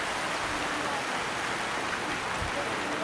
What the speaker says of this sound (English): And right now, it's starting to rain.